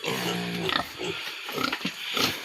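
Pigs grunt and squeal in a busy cluster on a farm at morning feeding time as feed is handed out to piglets and adult pigs, with overlapping close snorts and a harmonic squeal near the start.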